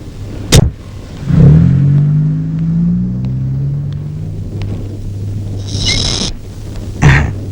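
A car pulls up with a low engine rumble that rises and settles for several seconds, framed by a couple of sharp clunks like doors shutting, with a brief high whine near the end.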